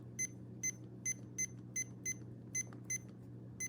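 Tamagotchi Gen 2 toy beeping, a steady series of about nine short, sharp electronic beeps at an even rhythm, close and fairly quiet over a low background hum.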